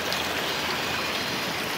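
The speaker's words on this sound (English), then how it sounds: "So the water goes through the fishway" Water rushing steadily through a fishway into a bypass channel at the Lower Weber River diversion, a close, continuous broadband wash with no voices.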